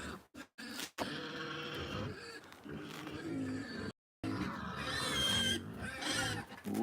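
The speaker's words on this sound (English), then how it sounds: "once you hear that grunting over there, that's my pigs" Pigs on a farm grunting and squealing near feeding time, loud rough bursts broken by brief gaps, close by.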